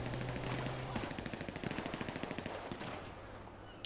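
Rapid automatic gunfire rattles in a video game shootout during a bank robbery, a fast burst of evenly spaced shots at moderate distance, followed by a few scattered cracks.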